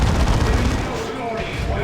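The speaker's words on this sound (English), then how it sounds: "We had a Lascannon firing" A Lascannon fires during a Dawn of War II: Retribution battle, in a dense, loud roar of weapon blasts and explosions that stays steady throughout and eases slightly toward the end.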